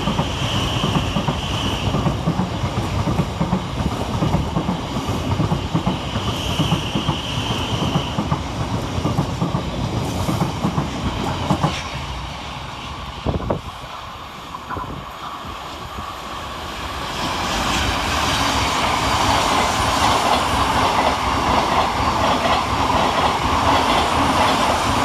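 Class 700 trains passing through Preston Park railway station, a steady loud rumble of rolling stock with rail clatter that dips briefly mid-way before a second train swells in and roars on.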